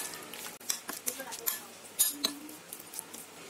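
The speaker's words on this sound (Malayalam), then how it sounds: "മുളക് പൊടി, മഞ്ഞൾപ്പൊടി, കുരുമുളക് പൊടി, മല്ലിപ്പൊടി, ആവശ്യത്തിന് ഉപ്പ് നല്ലവണ്ണം മിക്സ് ചെയ്യുക" Prawns are mixed with chili, turmeric, pepper and coriander powder and salt in a bowl, making scattered light clinks and scrapes of a utensil with soft moist shuffling, close and intermittent.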